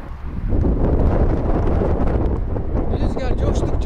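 Strong wind buffets the microphone outdoors at a shotgun test shoot, a loud continuous rumbling roar with gusty surges, while someone talks under it.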